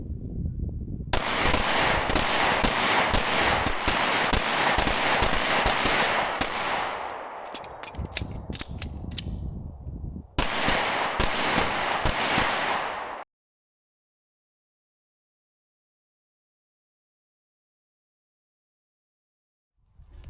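Rapid strings of Glock pistol gunshots at a shooting match, loud and close, fired in dense bursts with a short pause partway through, then abrupt silence for the final stretch.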